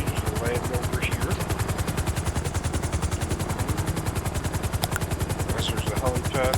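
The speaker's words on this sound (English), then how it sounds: "it is landing on helipads in the helicopter" A helicopter flies and comes in to land in a role-play video game, its rotor thumping in a fast, even, loud pulse throughout, with someone talking over it.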